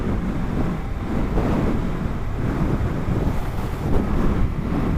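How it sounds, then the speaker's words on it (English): Strong wind buffets the microphone in a continuous, loud roar with gusting swells, heard outdoors while out riding a motorcycle. "The wind speed has somewhat increased."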